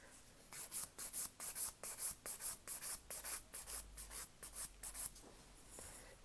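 A nail file rasps under the edge of a hard gel nail in quick, regular back-and-forth strokes, close and fairly quiet, slowing and fading toward the end.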